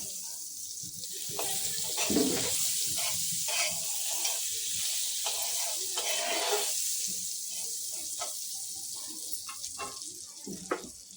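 Butter sizzles on a hot tawa griddle with a continuous hiss and scattered small crackles, steady and fairly close throughout.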